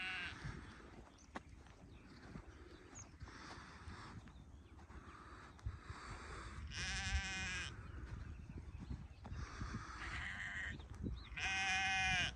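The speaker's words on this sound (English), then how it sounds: "I'm trying to walk this side so the sheep are not on the edge" Sheep on a cliff path bleat in several calls spread across the clip, some distant and some nearer, over a steady background of wind and rumble.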